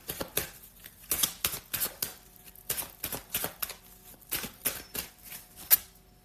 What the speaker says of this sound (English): I'm gonna draw a few more cards here.